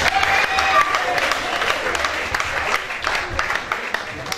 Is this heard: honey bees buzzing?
no